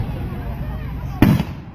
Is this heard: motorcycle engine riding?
no